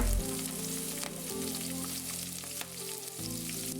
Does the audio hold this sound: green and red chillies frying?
yes